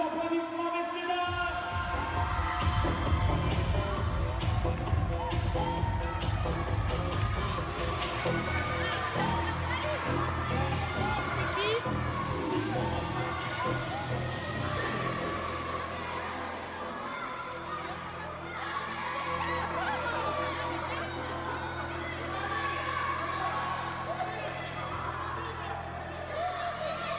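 Crowd noise fills the stands at the final of an indoor football tournament in Marseille, with loud cheering, chatter and laughter mixed with music over a long, steady stretch.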